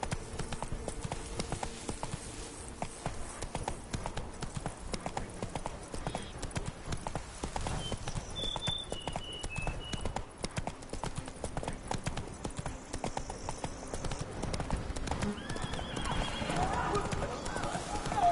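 Roach, a horse in The Witcher 3: Blood and Wine, gallops with quick, rhythmic hoof clip-clops and gives a whinnying neigh midway, with a voice briefly speaking over the hoofbeats.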